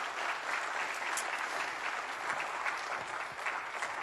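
A crowd claps steadily in a dense, even wash of applause at a political gathering with Félix Tshisekedi and Emmanuel Macron, holding at a constant loud level throughout with no speech over it.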